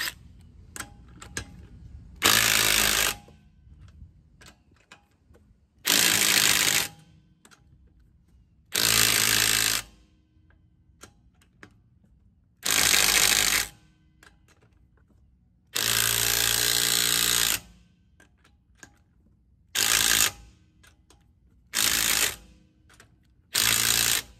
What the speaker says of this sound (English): Crisscross pattern. I'll tighten them up.